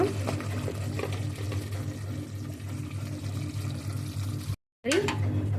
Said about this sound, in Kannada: ನೀರು ಹಾಕಿದ್ದೀನಿ